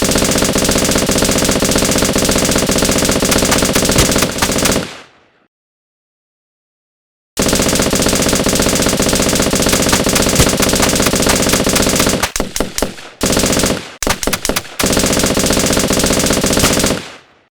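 Sustained bursts of M16 automatic rifle fire, loud and close, run in long continuous strings broken by a silent gap, then give way to choppy short bursts near the end.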